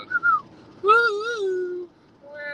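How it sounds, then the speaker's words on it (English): A person whistles a short melodic tune, a few wavering notes with brief gaps and one longer sliding phrase, close and clear with no talking. "Just whistling."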